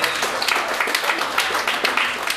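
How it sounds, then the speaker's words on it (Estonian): An audience at an awards moment for a fitness group claps vigorously. The applause is dense, lively and continuous and sounds close, with no speech. "Palun, aplaus talle."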